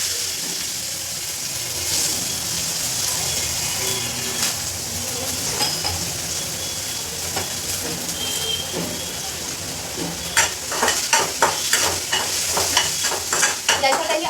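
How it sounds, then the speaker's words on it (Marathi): Chopped coriander goes into a hot mustard-seed and curry-leaf tempering in a pan, giving a steady close sizzle with stirring scrapes and sharp spoon clatters against the pan that grow busier toward the end. "तर कोथिंबीर देखील मी फोडणीत घालणार आहे."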